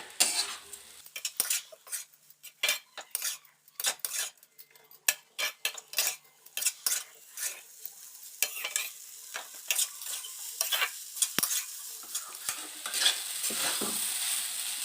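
Flattened rice (chuda) is stirred and mixed in a pan, with a rapid run of close metallic scrapes and clinks from the utensil over a faint sizzle that grows steadier toward the end.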